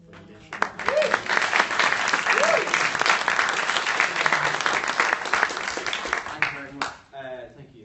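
Audience bursts into loud, sustained applause for a puppet maker, dense clapping swelling quickly and holding for several seconds before cutting off, with brief voices and a whoop near the start and talk resuming at the end.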